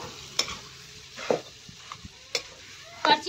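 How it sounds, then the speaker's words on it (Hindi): Potatoes with salt, turmeric and cumin stirred and roasted with a ladle in a pan, giving a quiet low sizzle broken by several soft scraping strokes spaced about a second apart. "करछी से ऐसे भून लेंगे इसको"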